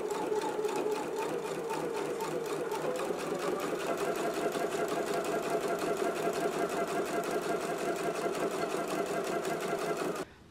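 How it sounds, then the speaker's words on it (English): A sewing machine stitches along the marked line of a fly front zipper, a fast, even mechanical whirr and needle clatter that runs steadily and close for about ten seconds before stopping abruptly. "I'm going to go ahead and stitch right along the line that I just transferred"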